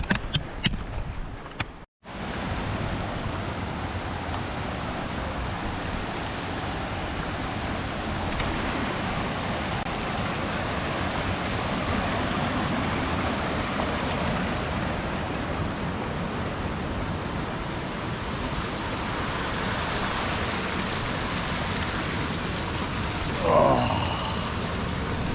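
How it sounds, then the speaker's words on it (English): Rushing water from a mountain stream beside a trail through a boulder field, a loud, steady broadband roar that fills the whole clip after a brief cut near the start, with no voices over it. "It's gonna be a little noisy with the water, but hey, that's what the mountains are all about"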